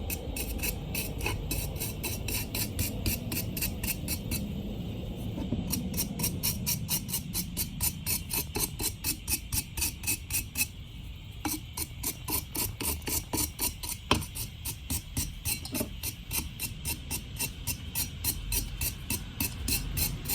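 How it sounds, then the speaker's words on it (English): A wire brush scrubs burrs from the cut edge of a Jeep Wrangler intake pipe, rapid rhythmic rasping strokes repeating steadily and close for the whole stretch, with a brief pause midway. "just go ahead and take a wire brush to them"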